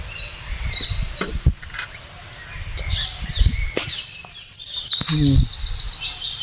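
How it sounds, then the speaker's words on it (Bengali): Parakeets calling in a woodland of trees with nest holes, sharp chirps and shrill screeches scattered across the clip, some near and loud, others farther off, with rustling and footsteps in the background. "টিয়া পাখি চরম হারে আওয়াজ করছে এই যেখানে, এই যে জঙ্গলটাতে"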